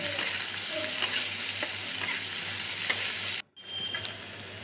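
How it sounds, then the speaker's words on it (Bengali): Chopped onion frying in oil with dry red chili, bay leaf and nigella seeds, giving a steady close sizzle with occasional scraping stirs, then a brief cut and a quieter sizzle resuming. "তেলের মধ্যে শুকনো লঙ্কা তেজপাতা ফোড়ন কালো জিরে ফোড়ন দেব ফোড়নটা নেড়ে চেড়ে তার মধ্যে পেঁয়াজ কুচি দিয়ে নেড়ে চেড়ে নেব"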